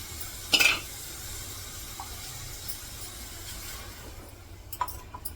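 Ground chili, garlic, cumin and gram flour being stirred into cooking potatoes and spinach in a pan, a soft continuous sizzle broken by a sharp utensil scrape early on and a few light clinks near the end.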